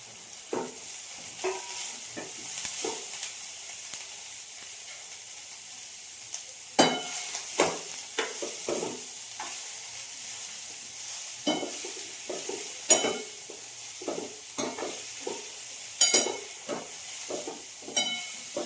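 Shredded cabbage and onion frying in oil, with a steady hiss and sizzle throughout and intermittent stirring scrapes and clacks of a spatula against the pan, close and fairly loud.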